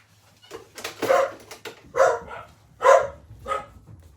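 A dog indoors barking at post coming through the door, giving several sharp, fairly close barks in irregular bursts, with quiet gaps between them.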